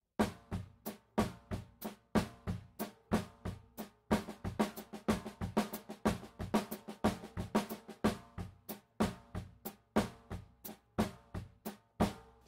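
A drum warm-up exercise switching between 8th and 16th note triplets on a kit, with a steady stream of crisp, close hits that tighten into denser runs in the middle and then relax again.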